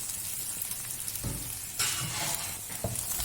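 Chopped garlic and ginger frying in a pan, a soft continuous sizzle that swells louder partway through, with a couple of brief stirring knocks.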